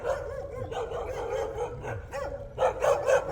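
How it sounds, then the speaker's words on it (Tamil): Two dogs bark repeatedly at a visitor outside a house in Malaysia, sharp yips and barks in uneven bursts at close to moderate distance, growing louder near the end. "இங்கே நாய்ங்க 2 இருக்கு, கொலைச்சிட்டு இருக்குங்க என்னை பார்த்து"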